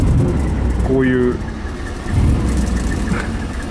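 A V-engine car with a split exhaust manifold idles and revs with a deep, rough exhaust rumble, steady throughout, with a voice speaking briefly over it.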